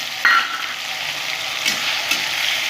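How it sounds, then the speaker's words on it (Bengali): Okra frying in a hot pan, a bright continuous hiss with a couple of sharper scrapes of stirring, close and alone. "একটু ভাজা ভাজা করে নেবো"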